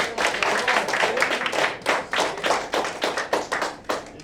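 A small audience claps at a recruitment training session, the hand claps fairly close and distinct, forming a steady irregular patter over about four seconds with no talk.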